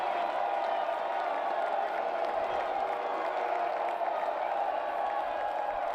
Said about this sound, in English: trying to get the crowd noise involved